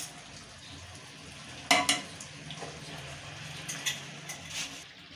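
Achar gosht of meat, tomato and yogurt sautés in a pot with a soft, low sizzle, broken by a few sharp clinks of a spoon against the metal, and no voices.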